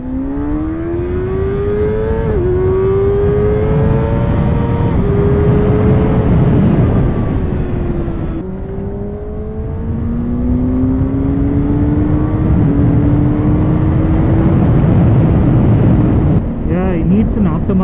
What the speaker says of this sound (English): I don't know if you guys can hear the exhaust, but it has a very sweet tone